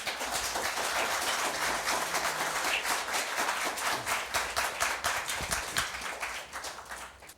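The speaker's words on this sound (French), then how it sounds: "on applaudit les 2 équipes" An audience at a school quiz match applauds the two competing teams with sustained, dense clapping that fills the room and then slowly thins out near the end.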